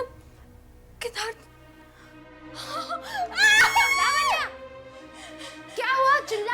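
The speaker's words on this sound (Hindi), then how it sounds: "चिल्ला क्यों रही हो?" A woman in a Hindi TV horror serial gives a high, wailing scream that rises and wavers for about a second, followed by more strained cries and brief talk nearby.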